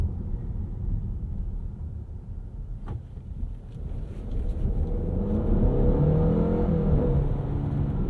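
A 2022 Cadillac XT4 accelerates at about quarter throttle, its engine note rising steadily from a low rumble under road and wind noise inside the cabin.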